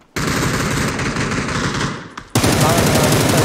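Automatic gunfire in a shooting video game: loud, rapid machine-gun bursts run almost continuously, with a brief dip before a fresh, sharper burst.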